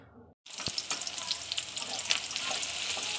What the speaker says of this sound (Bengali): তেলটা গরম হওয়ার পরে একটু দিয়ে দিলাম পেঁয়াজ কুচি।